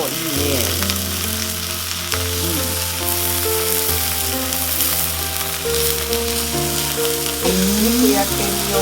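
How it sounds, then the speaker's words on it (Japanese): Food with sesame sizzles and fries steadily in a pan, loud and close, under a continuous bed of music with no clear talking. "はい、じゃあ焼きますよ。"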